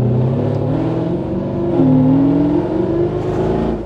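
A Mercedes C63 engine rises and falls in pitch as the transmission blips the throttle to match revs while driving, a steady close-up drone with a brief swell in the middle and no talking.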